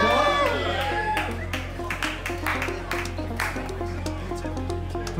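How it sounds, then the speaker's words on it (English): Scattered clapping and light applause rise from a crowd at a sailing regatta prize-giving, with sharp hand claps over a steady low hum and voices mixed in. "Round of applause"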